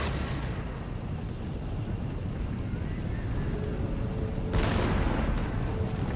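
Artillery cannon fire in Empire Total War, a rumbling, windy battlefield wash with a sharp cannon boom landing near the end.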